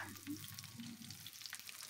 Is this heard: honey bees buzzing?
no